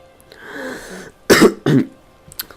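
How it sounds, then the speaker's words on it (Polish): A man with a sore, irritated throat coughs twice in two short, loud bursts at close range, after a quiet stretch of low hum and before a faint throat noise at the end. "musicie mi wybaczyć troszkę te kaszlenie ciągłe moje"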